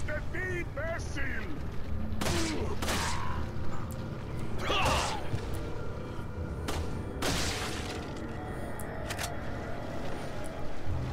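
Handgun fire in the Resident Evil 4 video game arrives as scattered sharp shots and impacts over a steady game background, with people talking throughout.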